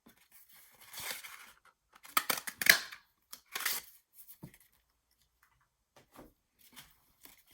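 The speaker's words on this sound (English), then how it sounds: "I'm just using my little punch here. I can make some punches." A small paper punch cutting tags from paper scraps for a mini album, giving a few close crunching snips and rustles, clustered early and then trailing off into faint taps.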